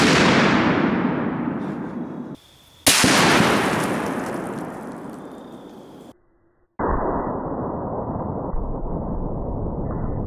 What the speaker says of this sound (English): Let's hit it again with the 50 BMG. And again, we're loaded up with an armor-piercing incendiary tracer.